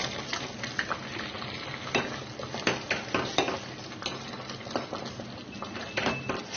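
Jaggery added to cooked sago in a pot and stirred, with repeated scraping and clinking of a spoon against metal over a soft bubbling sizzle, in an irregular rhythm.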